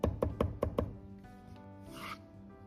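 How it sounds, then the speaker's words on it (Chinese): Ginger and garlic are crushed and chopped on a board with five quick, sharp knocks in a row, followed by a quieter stretch of faint rubbing and scraping. "生姜和大蒜适量，先拍破，再剁碎"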